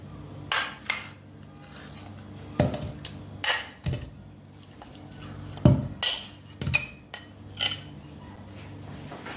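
Meat being placed into a tagine pot in a home kitchen, heard as a series of sharp clinks and knocks of pieces and utensils against the pot, irregular and close, with quiet pauses between.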